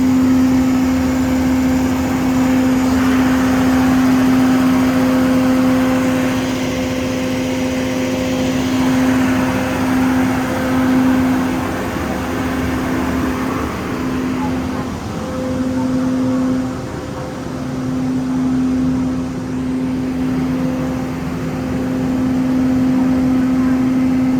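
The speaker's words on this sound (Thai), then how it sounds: "ตู้ที่สามารถปั่นไฟได้นะครับนั่นคือรถ GRS คันด้านหน้านี้นะครับ" Power generator car of a Thai night express train, red and white, standing near: a steady loud engine drone with constant tonal hum running throughout, no speech.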